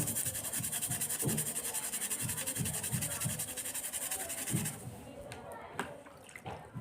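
Gas burner being scrubbed with cleaner: a close, rhythmic rubbing and scouring for several seconds, with faint background noise and a quieter stretch at the end.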